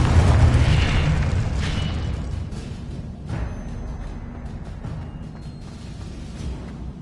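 A Confringo blasting spell goes off in a Harry Potter video game, a loud booming burst that opens the clip and then rolls off into a long rumbling decay with scattered crackles.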